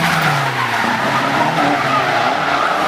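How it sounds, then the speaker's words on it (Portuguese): Drifting cars slide sideways with loud, continuous tire screeching and engine roar at a drift racing event, a dense, unbroken wall of noise throughout. "dois carros grudados andando de lado no meio de uma fumaça e de um barulho ensurdecedor"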